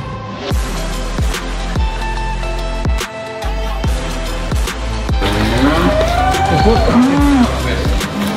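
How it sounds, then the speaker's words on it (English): A herd of cows on a farm, several loud close moos overlapping one another, with repeated thuds and clatter of movement throughout. "We've got the cows coming up."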